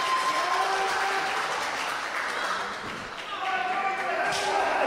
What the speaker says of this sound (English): Split crowd here between Jordan Oliver and Juicy FINAU.